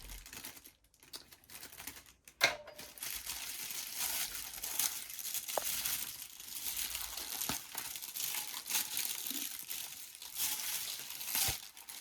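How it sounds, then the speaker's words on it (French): Crinkling and rustling of a small mail parcel of diamond painting and cross-stitch supplies being opened, close and intermittent, with occasional sharp crackles and tearing bursts against a quiet room. "on va ouvrir le petit paquet"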